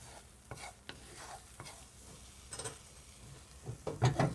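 Scrambled eggs stirred with a wood spatula in a cast iron skillet, soft sizzling under scattered scrapes and taps, with a louder cluster of scraping near the end.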